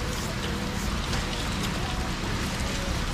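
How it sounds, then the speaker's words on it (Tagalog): Steady rain pours down, a dense, even hiss with a low rumble underneath, continuous throughout with no talking. "Umuulan na, inabutan na ng ulan."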